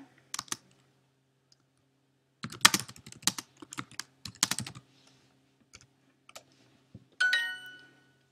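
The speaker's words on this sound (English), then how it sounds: "In this one, you're going to listen and then type the answer in English." Someone types an answer on a computer keyboard in a few separate bursts of quick, close clicks with pauses in between, and the burst ends with a bright ringing chime.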